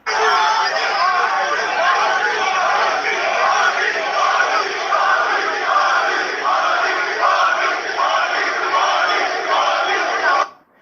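Large, energetic political rally crowd cheering and chanting in unison, a loud, continuous roar of many voices with rhythmic shouted surges, ending abruptly.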